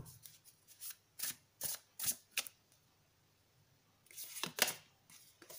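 Tarot cards being shuffled by hand, a series of crisp riffling bursts in two quick clusters separated by a short quiet gap, close and fairly soft with no talking.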